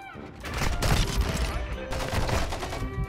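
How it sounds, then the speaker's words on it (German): Dense gunfire from Call of Duty: Modern Warfare 2 (2022), rapid overlapping shots and bursts forming a loud continuous fusillade for the whole stretch, with faint voice underneath. "und er knallt mich ab"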